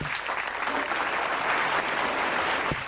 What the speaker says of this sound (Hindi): बहुत सारी तालियां साहिल कुमार के लिए।